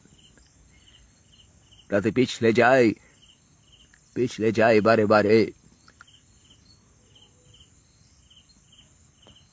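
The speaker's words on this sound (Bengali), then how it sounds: "আজ এই চাঁদনি রাতে বসে অন্ধকারে ঝিঝির ডাক শুনি" Crickets chirp at night in a steady, rapid pulsing rhythm that continues from start to end, faint but constant, while someone speaks in two short bursts over them.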